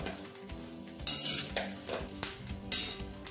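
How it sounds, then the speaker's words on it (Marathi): Green chillies dry-roasted on a tawa without oil for a chilli chutney, heard as a series of clinks and scrapes from a utensil stirring against the pan, with faint sizzling in between and no talking. "विदाउट तेल आहे, असं परतून घ्यायचं आहे."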